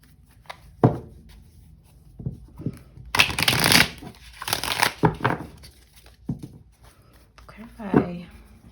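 A deck of tarot cards is shuffled close by, with bursts of riffling and flicking and soft card taps spread across the moment. Someone speaks quietly in between.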